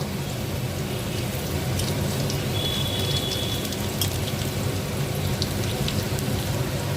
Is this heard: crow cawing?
no